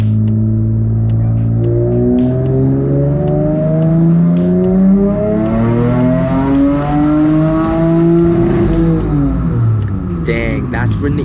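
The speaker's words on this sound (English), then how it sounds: "Dang, that's when the engine really started to scream." A turbocharged twin-engine Mazda MX-3 on a dyno, tuned with Megasquirt, screams through a long wide-open pull, its pitch climbing steadily and loudly before it drops off near the end.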